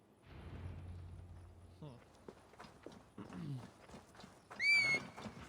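Hoofbeats of a horse in the video game Assassin's Creed Valhalla, a run of fairly close thuds and clops with a whinny near the end, heard under game speech and a low hum.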